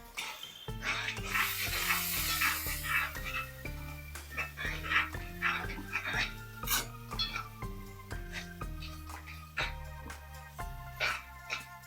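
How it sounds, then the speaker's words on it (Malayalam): A spatula stirs a chapati curry in a pan after a little water is poured in, giving soft, uneven scraping and sizzling bursts under steady background music. "ശകലം ഒന്ന് ഇളക്കി കൊടുക്കേ"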